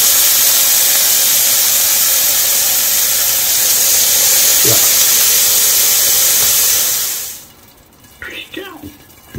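Brinjal tawa fry sizzling on a hot pan, a loud steady hiss for about seven seconds that then cuts off, followed by quiet with brief voice sounds.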